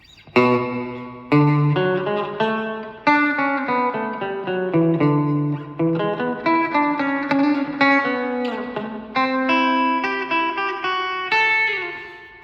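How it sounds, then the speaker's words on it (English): Clean electric guitar through a Line 6 Spider V mk2 amp with heavy reverb: a loud, steady run of picked notes and chords whose tails wash and overlap into each other, played alone with no talking. "I wanted to have more in the mix and have a lot of reverb"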